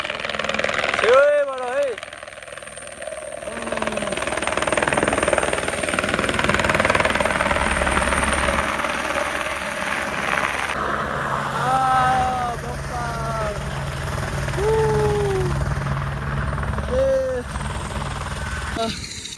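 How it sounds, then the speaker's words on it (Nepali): A helicopter's steady thumping drone fills the background on a mountain trek route to Annapurna Base Camp, loud and sustained, while people talk over it. "हेलिकप्टर फेरि यतैबाट हो यहीँबाट छेउैबाट है"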